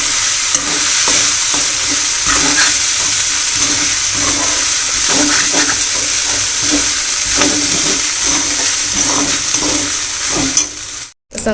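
Poha being stirred and mixed in a pan, a steady loud hiss of frying under continuous scraping and shuffling of the spoon, ending with a brief clatter near the close.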